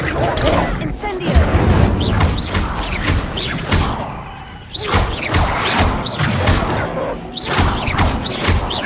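An Incendio fire spell is cast repeatedly in Hogwarts Legacy on PS5, a series of loud, close fiery bursts and crashing whooshes in quick succession, with voices heard between blasts.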